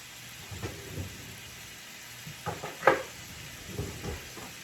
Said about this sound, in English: I'm going to go in with just a little more onion.